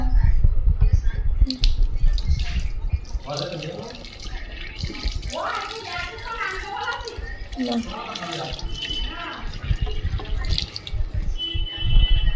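Grapes washed under a running tap, water splashing and trickling into a sink with wet squishy handling, while people talk over it throughout.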